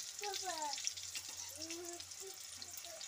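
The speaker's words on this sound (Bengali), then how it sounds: "বেগুনটা ভালো করে একটু ভেজে নেব, খুব বেশি ভাজবো না" Eggplant pieces frying lightly in a pan give a steady low sizzle throughout, with a voice talking over it at moderate level.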